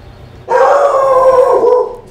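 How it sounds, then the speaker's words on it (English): A dog lets out one sustained, loud howl lasting over a second, close by, rising from a quiet background and then trailing off. "That is my dog."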